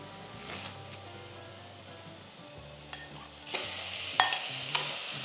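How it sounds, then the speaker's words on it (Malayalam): Beef pieces stir-fry over a high flame, starting as a quieter sizzle with low rumbling, then swelling into a brighter, louder hiss with sharp spatula scrapes and clinks near the end, with no speech. "ബീഫ് ഇട്ട ശേഷം ഹൈ ഫ്ലെയിമിൽ ഒരു 2 മിനിറ്റ് നന്നായിട്ട് വഴറ്റുക."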